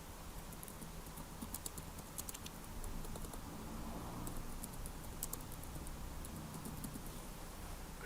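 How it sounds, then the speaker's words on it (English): Computer keyboard typing, quiet and close: irregular bursts of light key clicks come in short flurries across the whole stretch, with a louder tap at the very end. "I type in"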